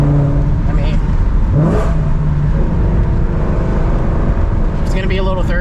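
A 2018 Mustang GT Premium pulls hard in third gear through a tunnel, its engine drone rising in pitch and echoing off the walls, with a voice talking over the steady roar.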